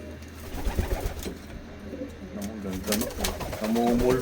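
Racing pigeons in a loft coo repeatedly in soft, rolling calls that grow louder toward the end, mixed with wing and movement noise, while someone talks nearby.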